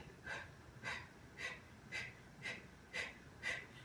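Rhythmic breathing during an abs exercise: seven evenly spaced, close, breathy exhales about half a second apart.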